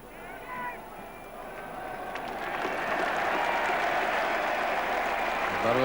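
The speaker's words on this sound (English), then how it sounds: "A lot of applause there for Jeff Boycott." Crowd applause at a Lord's Test match between England and the West Indies in 1980 swells into sustained clapping from a large, distant crowd, with a commentator's voice heard over the top.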